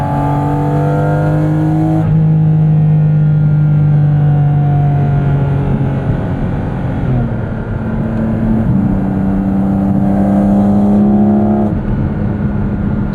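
2023 Porsche 718 Cayman GT4 RS engine revving hard through the gears, loud and close from inside the cabin, pitch climbing in long sweeps, dropping at each shift and rising again.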